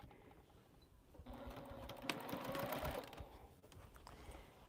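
Sewing machine stitching through thick layers of quilting fabric, a steady rapid mechanical whir that starts after a quiet moment, runs for about two seconds, then slows and stops, close and fairly quiet.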